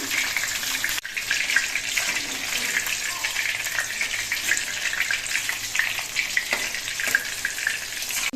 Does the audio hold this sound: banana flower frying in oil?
yes